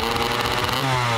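A 1992 Kawasaki KX 250 motocross motorcycle engine revs raw and buzzy, close and rasping, holding a rough high-pitched drone before cutting off abruptly.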